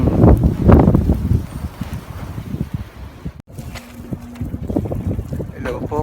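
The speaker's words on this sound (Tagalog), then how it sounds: "Grabe. Lakas ng hangin." Gusty wind from a winter snow storm rumbles and buffets the mic, loud at first and then steadier, with a voice talking through it.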